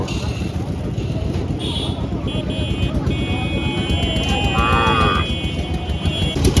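A cow lets out a moo amid a noisy crowd, with people chattering and vehicles buzzing in the background of a busy outdoor cattle market in Jhenaidah, Bangladesh.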